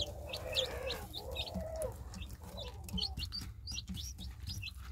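Newly hatched chicks peep in quick, high, repeated chirps close by, while a hen clucks low underneath, the cheeping scattered and continuous across the whole stretch with no talk.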